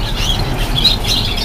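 Birds calling inside a pet bird shop, a steady mix of small chirps and squawks carrying over a constant low background hum, with no talk.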